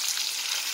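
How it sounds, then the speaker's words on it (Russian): Minced-meat patties sizzle in a frying pan during an outdoor lunch, a dense steady hiss of hot fat crackling continuously and close by, with no talking. "И котлетки жарятся."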